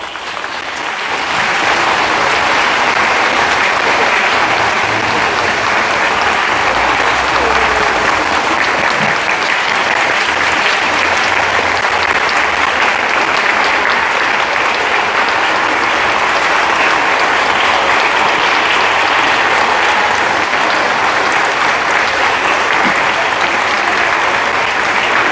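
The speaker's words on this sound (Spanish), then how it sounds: "Vamos a recibirlo con un fuerte aplauso." Sustained audience applause at a concert at the Divina Misericordia sanctuary, a loud, dense wash of clapping that swells in after the first second and holds steady for over twenty seconds.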